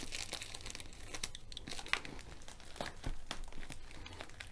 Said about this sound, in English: So just peel off the cellophane.